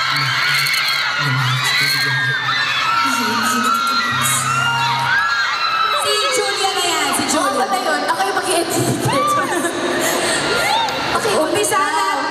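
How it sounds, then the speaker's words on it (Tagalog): Fans at a mall fan-day event with actress Julia Montes at Trinoma, a dense crowd roar of high-pitched screams, whoops and cheering that surges in waves, with a loudspeaker voice talking over it early on. "malakas lang po yung hiyawan kanina"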